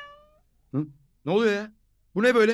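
A cat meows three times indoors, the calls close and clear, with a man's brief spoken remark in between them.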